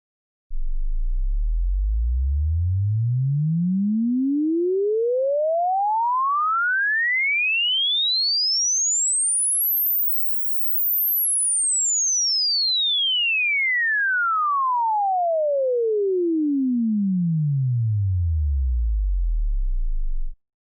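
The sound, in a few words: sine wave sweeping across frequencies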